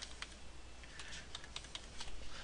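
Rapid keystrokes on a computer keyboard while a fax number is entered into Windows Fax and Scan, an irregular run of close, crisp clicks over a steady low room hum, with no talking.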